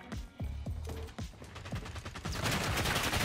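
Rapid gunfire from behind in a shooter video game crackles in quick bursts mixed with mechanical clicks, building into a dense, loud barrage toward the end.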